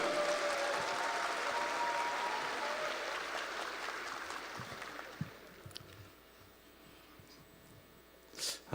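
A crowd at a Democratic Party joint candidate speech rally in Jeju greets a candidate with loud, dense applause that gradually thins out and fades to near quiet, leaving a few faint scattered sounds.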